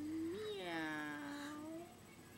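A child imitates a cat's meow, one drawn-out voiced call with a rising then steady pitch, close and clear against a quiet room.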